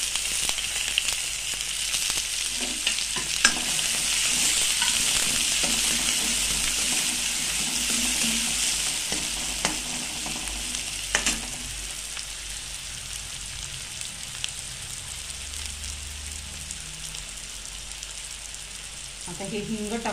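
Chopped onions hiss and sizzle in very hot oil with cumin and mustard seeds, a steady close frying noise with a few sharp pops, fading somewhat toward the end.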